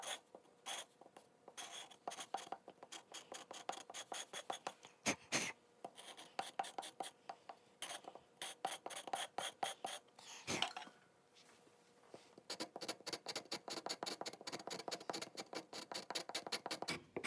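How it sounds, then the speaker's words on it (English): A sharp chisel scrapes wood while a rifle stock for a swivel breech rifle kit is inletted, producing rapid repeated rasping strokes in bursts with brief pauses, close and dry, with no talking. "If you get these chisels really sharp, you can scrape sideways with them,"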